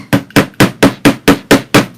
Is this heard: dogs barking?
no